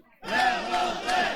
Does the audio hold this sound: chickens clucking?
no